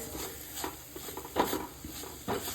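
Ginger garlic paste sautés in a pan for a Goan egg drop curry, soft sizzling under a few scraping stirs of a spoon against the pan, quiet and close.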